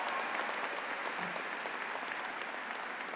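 Audience applause at a university undergraduate commencement ceremony, a dense and even wash of many hands clapping that holds steady for a few seconds.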